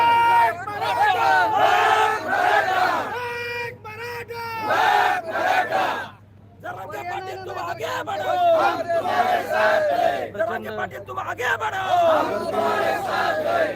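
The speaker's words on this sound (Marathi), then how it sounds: "प्रचंड गर्दी आहे आणि हे सगळे लोक आरक्षण मागण्यासाठी मुंबईला या ठिकाणी आलेले आहेत" A huge Maratha reservation protest crowd in Mumbai chants and shouts together in loud, surging rhythmic waves with a brief lull midway, voices close and massed.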